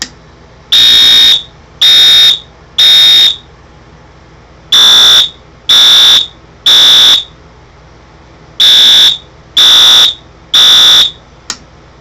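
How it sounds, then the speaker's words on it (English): A fire alarm system set off during a test, sounding loud, repeated electronic tones in three groups of three short blasts, each burst evenly spaced with brief gaps between the sets. "we're going to activate the alarm"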